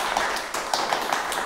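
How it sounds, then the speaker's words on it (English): A group of hands clapping in steady applause, many overlapping claps with a few louder accents standing out. "Let's clap."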